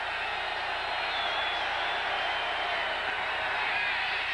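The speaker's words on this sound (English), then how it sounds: "Also, this is a very knowledgeable crowd. They will make the noise now when the visiting team is on offense." A 1989 football stadium crowd in Seattle, roaring while the visiting San Diego team has the ball: a dense, sustained wash of cheering and shouting, loud and unbroken, with no distinct voices standing out.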